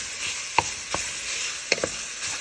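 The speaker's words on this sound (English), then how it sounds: "in my kettle here with 1 onion chopped up, and I'm going to brown this. I put a little bit of olive oil in there." Chopped onion browning in a little olive oil in a kettle, a steady close sizzle with a few sharp pops and stirring clicks scattered through it.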